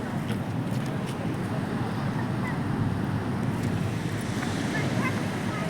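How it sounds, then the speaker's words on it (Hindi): Sea surf rolls and surges onto the shore in a steady, loud wash, with gusting wind buffeting the microphone throughout and no clear break in the roar. "ये देखो समंदर यहाँ पे इतना ज़ोर से है"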